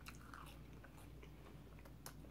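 Crunchy Long John Silver fried fish and chips are bitten and chewed close to the microphone, soft crackling crunches and a few sharper bites over a quiet steady background, with no talking.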